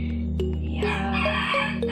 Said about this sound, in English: We have plenty of roosters and chickens here.